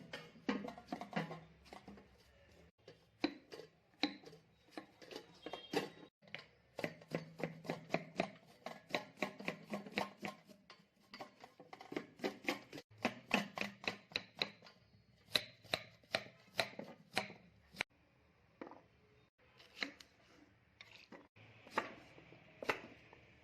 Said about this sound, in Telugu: ఈ లోపల మనం కూరగాయలు కట్ చేసుకుందాం